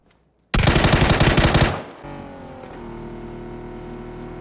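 A loud, rapid burst of MG3 machine gun fire in the PUBG video game, lasting about a second, then an engine hum continues underneath.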